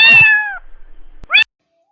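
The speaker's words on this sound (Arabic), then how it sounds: "meow cat." A cat meows loudly and close, one long drawn-out call followed after a pause by a short second meow, then silence.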